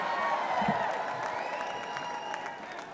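Large convention-hall crowd at the Republican National Convention applauding and cheering steadily throughout, a dense wash of clapping with scattered whoops, no voice standing out above it.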